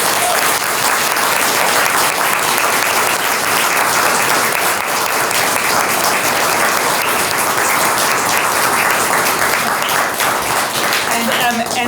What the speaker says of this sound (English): I'd like to invite y'all to give our presenters a huge round of applause.